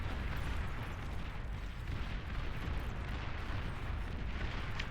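Dense, continuous rumble of massed artillery fire from around ten long-range turrets tearing up a front line in the real-time strategy game Beyond All Reason, booming explosions blending into a steady roar with no clear gaps.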